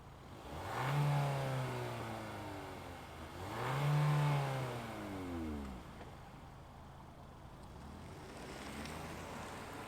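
A 2023 Kia K5 GT-Line engine gives two distinct revs, each swelling and falling back to a steady idle hum, fairly close and with no speech.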